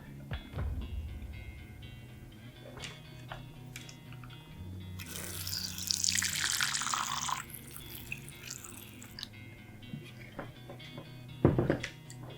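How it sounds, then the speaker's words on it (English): Water trickles and splashes into a small bottle cap set in the corner of a horned baboon tarantula's enclosure, a soft burst of pouring amid faint handling clicks and crunches of substrate. "fill it up with a little bit of water, just so he can hydrate if he feels the need to"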